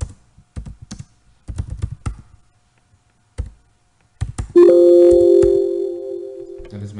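Keys clack in short bursts as a command is typed on a computer keyboard at a desk, separated by pauses, then a steady tonal hum rises and holds toward the end.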